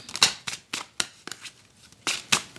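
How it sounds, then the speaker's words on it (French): Tarot cards riffled and shuffled by hand in a series of quick, close, crisp bursts with short pauses between, no talking. "Alors, on fait un tirage à 9 cartes."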